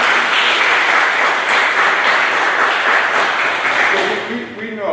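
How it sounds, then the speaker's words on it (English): Sustained applause for young police explorers and Officer Sellers at a Veterans Day celebration, a dense steady wash of clapping that fades near the end as a voice begins talking. "Let's give our young people a round of applause and Officer Sellers."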